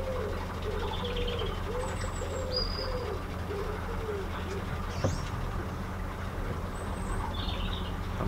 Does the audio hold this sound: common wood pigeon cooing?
yes